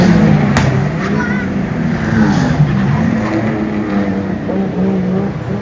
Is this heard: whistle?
no